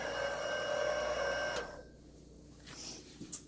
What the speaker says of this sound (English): It's a masticator, and that's the sound this one makes.